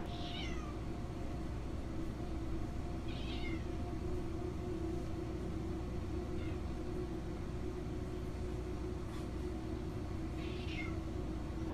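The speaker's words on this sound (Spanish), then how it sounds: "Los gatos otra vez están en la puerta." Several cats meowing at a door around midnight, a few short cries spaced several seconds apart over a steady low background hum, moderately distant.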